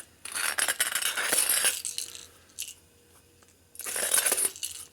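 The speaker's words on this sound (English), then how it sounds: "Take our deburring tool" A hand deburring tool scrapes the sharp edges of junk Harley panhead race motor parts in two close bursts of harsh, bright metallic scraping separated by a quieter pause, with no talking.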